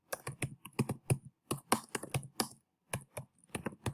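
Rapid typing on a computer keyboard during a Microsoft Word practice exercise, crisp close key clicks in quick bursts separated by short pauses.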